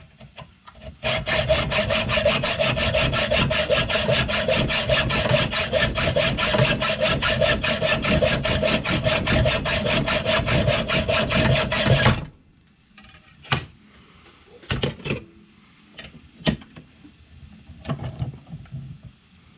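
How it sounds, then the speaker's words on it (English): A saw cuts Harley exhaust bolts down to length, a fast, loud, rhythmic rasping stroke that runs steadily, then stops, followed by a few scattered metallic clanks and handling knocks. "You always want to put a nut on there when you're cutting these bolts down to help you deburr it"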